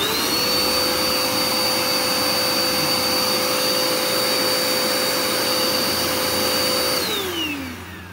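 A Dirt Devil Endura Max UD70175 upright vacuum runs steadily at close range with a loud motor whine and spinning brush roll, holding a constant pitch before winding down near the end.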